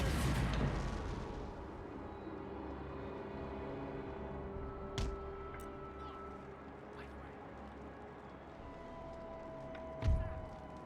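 Distant cannon artillery fire in the video game Empire: Total War, with a couple of dull booms, including a louder thud near the end, over a steady battlefield din of low rumble and scattered clatter.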